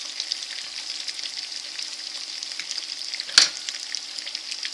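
Green beans and tomatoes cook in olive oil, producing a continuous close crackling sizzle with fine popping. One louder sharp clack from the pan or a utensil breaks in briefly toward the end.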